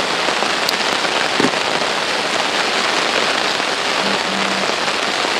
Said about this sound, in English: that rain's coming down now